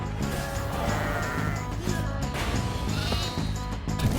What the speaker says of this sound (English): I love my little sheep pet, it's the best thing they've added.